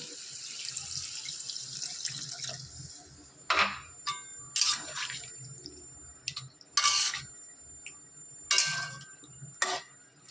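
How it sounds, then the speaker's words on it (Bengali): Water poured into a pan of sautéed eggplant, potato and peas, a hissing rush at first, followed by intermittent splashes, drips and light ticks of the pan, fairly close and quiet. "এবার আমি জল দিয়ে দেবো।"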